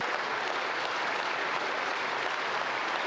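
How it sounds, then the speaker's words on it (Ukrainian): Members of Ukraine's parliament give Canadian Prime Minister Trudeau a standing ovation: loud, continuous massed clapping from a large hall, steady throughout before cutting off abruptly. "Його виступ у Верховній Раді зустрічали оваціями."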